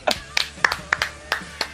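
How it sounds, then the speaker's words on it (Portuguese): A few people clap in a loose, uneven rhythm, about seven sharp, close claps spread over under two seconds, with a quiet room tone between them. "Palmas."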